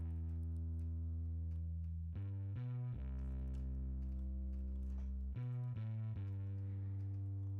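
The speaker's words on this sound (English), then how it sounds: "In this case, I'm using it for bass and guitar, so it sounds like this." Bass and guitar run through Guitar Rig plugin effects, playing a loud, sustained, distorted low riff with a few quick note changes, continuous and alone with no talking.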